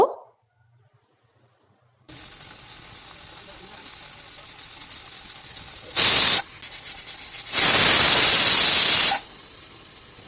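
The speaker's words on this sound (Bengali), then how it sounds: "এবার গ্যাস ওভেনে বসিয়ে জাস্ট দুটো সিটি দিয়ে দেব" A pressure cooker on a gas stove, holding eggplant cooked in a little mustard oil with no water, gives a loud steady hissing steam release that rises into two strong whistle bursts before falling back to a softer hiss.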